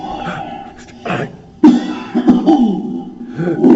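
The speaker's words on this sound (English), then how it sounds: "I've just probably given you a moment of cough." A few loud, close coughs and throat-clearing bursts, irregularly spaced, with brief pauses between them.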